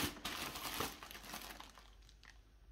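Plastic vacuum sealer bags from a Bonsenkitchen VS3802 vacuum sealer kit being handled, with continuous close crinkling and rustling that is loud at first and then softer, with no voices.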